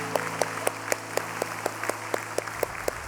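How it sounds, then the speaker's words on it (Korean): A church congregation claps in steady unison, about four sharp claps per second at an even rhythm over a low sustained tone, fairly quiet and without talk. "우리 살아계신 하나님 앞에 감사와 찬양의 박수를 올려드리겠습니다."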